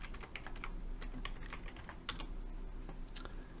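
Fast, fairly quiet typing on a computer keyboard, a steady patter of key clicks with a few sharper taps, with no talking.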